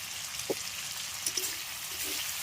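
Spice masala frying in a pan with chopped tomato, a steady bright sizzle and hiss throughout, with a couple of small pops and spatters, close and alone without talk.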